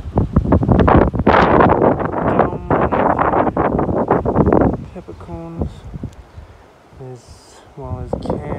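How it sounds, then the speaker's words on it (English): Strong wind buffets the microphone on open plains during a metal-detecting outing, a loud sustained roar that dominates the first half and then drops back, with someone talking over it in the later part. "it's windy as windy out here, out on the plains"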